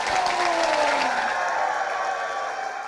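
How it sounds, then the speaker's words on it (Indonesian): Audience applause at a campus talk event at Mercu Buana university, a steady wash of clapping from a large crowd that stays loud throughout and tapers slightly at the end, with a few cheers mixed in. "Tepuk tangan sekali lagi."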